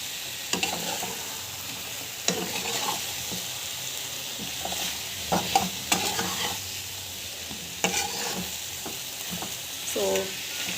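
Elephant foot yam is stirred and fried in a pan: a steady sizzling hiss is broken by scraping, clinking stirs at irregular intervals, and no one speaks.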